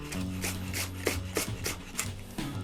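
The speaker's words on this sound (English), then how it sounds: "Now we're gonna go ahead and slice our onion. Just gonna slice it into thin strips." Knife slicing an onion into thin strips on a cutting board, a steady series of about eight soft rasping strokes with light knocks, close and alone.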